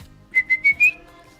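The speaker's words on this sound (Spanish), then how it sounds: "ya el silbido es sospechoso" A short whistled phrase of four quick notes at nearly the same pitch, the last slightly higher and longer, close and clear.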